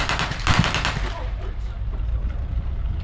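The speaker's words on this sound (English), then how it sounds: "They're opening fire again. They've spotted some Confederate infantry." Bursts of machine gun fire from a WW2 tank display at Tankfest 2023, a loud rattling volley early on that fades into rumbling engine noise and outdoor ambience.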